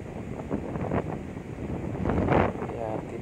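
Wind buffets a ship deck during a canola loading run, a steady broadband rush with louder gusts near the middle and toward the end, close to the microphone, with faint talk underneath.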